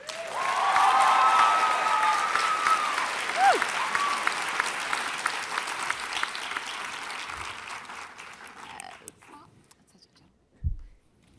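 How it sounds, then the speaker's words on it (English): An audience at a DC Comics panel on African-American heroes applauds a television producer, a full burst of clapping that swells, then thins out and tapers to scattered claps and quiet, with faint voices and a brief whistle early on. "A round of applause for Mara Brock Akil"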